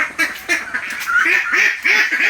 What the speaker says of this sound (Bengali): তবে এখন দেখি আমরা হাঁসকে কেমনে খানা খাওয়াই